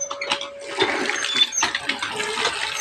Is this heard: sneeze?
no